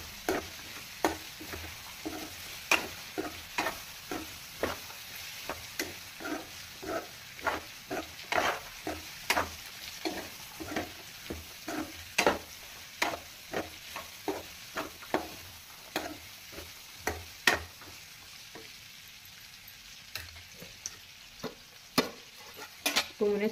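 Cleaned dried fish fries in oil with chickpeas for a curry, a soft steady sizzle punctuated by many sharp spoon taps and scrapes at an uneven, frequent pace, close and without talk.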